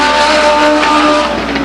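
A Legends race car at Stockton 99 Speedway on a dirt-free oval, its engine roaring loud and steady at high revs as it passes close, filling the short stretch without any voices.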